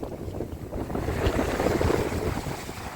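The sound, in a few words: strong wind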